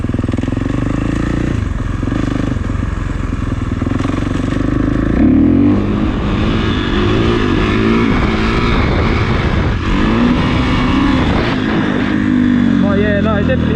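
A Kawasaki KX450 dirt bike engine revs loud and close while being ridden, with a continuous raspy roar that rises and falls through throttle changes. The rider's voice comes through briefly.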